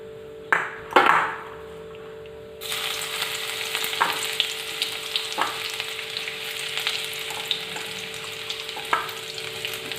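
Finely chopped ginger and garlic go into hot mustard oil: a few metallic clinks first, then a steady crackling sizzle with periodic stirring taps and scrapes close by.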